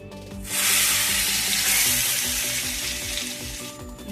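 Hot ghee with garam masala poured into a katla fish curry, bursting into a loud, steady sizzle that rises suddenly and holds close for several seconds.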